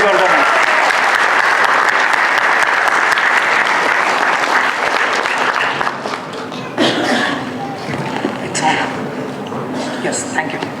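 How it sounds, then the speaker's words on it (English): Sustained audience applause for a speaker at a talk on valuations, dense and steady for about six seconds, then thinning into scattered claps with some talk over the fading end. "So please give a big round of applause for Samej Vardhaman"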